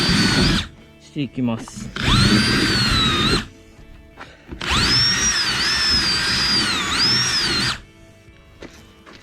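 A power drill cleans the edge of a hole and drives screws into the body of a MAX IV amphibious vehicle under restoration. It whines loudly and close in two long bursts separated by a short pause, with brief speech and some handling noise between them.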